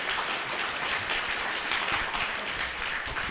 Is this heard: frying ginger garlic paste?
no